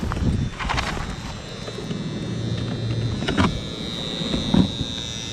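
A steady electric motor whir hums along in the background, punctuated by a few clicks and knocks, with no talking.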